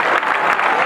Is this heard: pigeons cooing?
no